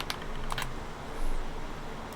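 Quick bursts of typing on a computer keyboard, a few close clicks and key taps over a faint background hum, with no talking.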